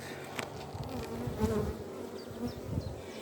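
Honey bees swarm and buzz over a nectar frame lifted from a hive in Ireland in May, a dense, steady close-up drone with small rises in intensity and no voices.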